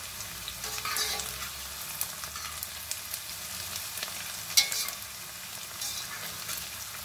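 Onions frying in oil in a pan for bhindi masala, a steady soft sizzle with occasional stirring scrapes and a brief louder clatter near the middle, close and with no talk.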